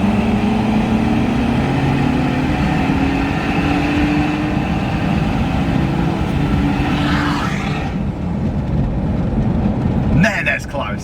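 BMW 123d diesel car accelerating hard, a steady loud engine drone with a rising tone across most of the run, then easing off near the end, with a brief mechanical rattle at the finish.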